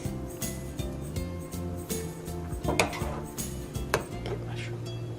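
Spoon clinks and scrapes against dishes while tikka masala is served over chopped jackfruit seed rice, with steady clattering of crockery and utensils throughout in a kitchen.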